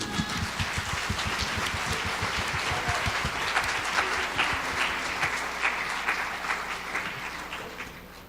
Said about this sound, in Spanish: Ahora sí les damos un aplauso de bienvenida.